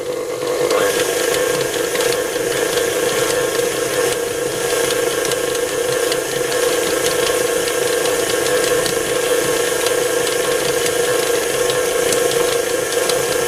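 A stand mixer kneads plum pastry dough at a higher speed, its motor giving off a steady, even drone with a whirring hum that holds unchanged from start to finish, close and alone.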